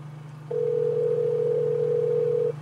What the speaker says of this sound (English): Let's see if we hear that telltale ringtone.